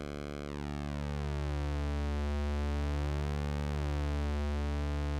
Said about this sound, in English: I do love the sound of a pulsing square wave